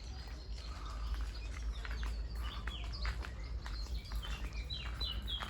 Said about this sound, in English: Just listen to that bird song.